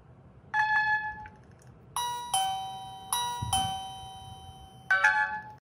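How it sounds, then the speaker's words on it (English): A string of electronic chimes and beeps from a Tuya smart video doorbell being reset: a short tone, then several sharp ringing notes in quick bursts, close and clear with no voices. "Press and hold the reset button with a pin until the doorbell beeps to release."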